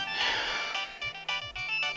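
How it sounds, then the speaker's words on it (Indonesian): A mobile phone left behind rings in a village house, a bright repeating electronic ringtone melody played continuously and fairly loud with no talking. "itu HP siapa sih yang bunyi terus?"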